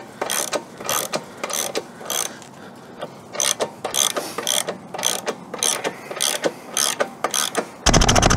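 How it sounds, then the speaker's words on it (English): Ratchet wrench tightening the axle on a Buell XB motorcycle at the side of the road: rapid, rhythmic clicking in repeated close strokes with brief pauses between them, ending in a louder burst, with no voices. "now to tension it up, retighten up the axle"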